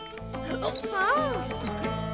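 A shrill whistle is blown once, a steady piercing tone held for under a second, close and loud over a droning hum.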